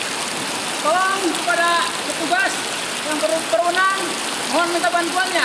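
Heavy rain pours during flooding in Tasikmalaya, a dense, steady hiss that continues while a person speaks over it in short bursts.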